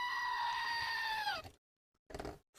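A goat bleats once in a long, wavering, nasal cry, followed after a brief silence by a short rough burst of a second sound.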